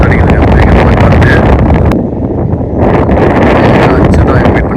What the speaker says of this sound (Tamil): நல்லா காற்று அடிக்குதுங்க. பயங்கரமாக காற்று